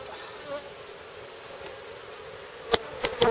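Honey bees buzz around open hive frames from a swarm, a soft continuous hum close by, with a few sharp handling knocks near the end.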